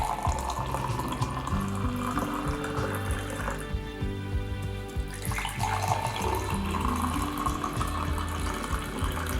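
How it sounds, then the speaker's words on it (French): Clear water runs from a tap into a saucepan in a continuous, close gush, with the pitch of the filling vessel shifting partway through. No talking. "300 ml d'eau claire dans une casserole"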